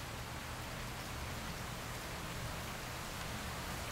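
A soft, even hiss of an approaching spring storm's rain spreads steadily and faintly through the whole stretch, distant and unbroken, with no voices.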